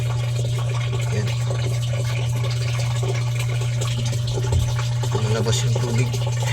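Water running and splashing as a Samsung automatic washing machine fills, with liquid leaking out the side, heard as a steady close flow over a constant low mechanical hum.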